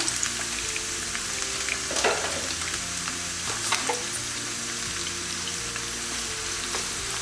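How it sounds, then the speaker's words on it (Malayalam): Thinly sliced onions sizzle steadily in hot oil, frying toward golden brown for egg biryani, a continuous crackling fry broken by occasional stirring scrapes. "ഇനി നമുക്ക് സവാള മൂപ്പിച്ചെടുക്കണം"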